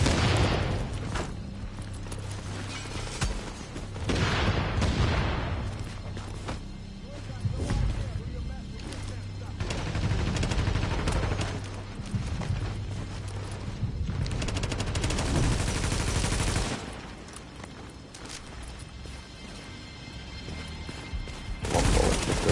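Rapid gunfire in The Division, dense bursts of shots and booms that come and go over about twenty seconds, with a voice talking over the firefight.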